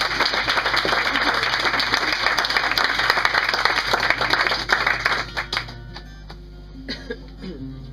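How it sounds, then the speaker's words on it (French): A theatre audience applauds loudly and steadily for several seconds, with the clapping thinning out and fading into scattered claps and a few coughs near the end. "Mesdames et messieurs, un tonnerre d'applaudissements pour Guy là-bas."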